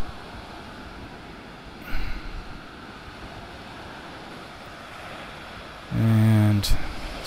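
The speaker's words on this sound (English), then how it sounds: "there we are navigating a few waves" Ocean waves breaking at Santa Monica Beach during a cold-water swim, a steady surf wash with wind on the microphone and a louder rushing surge near the end.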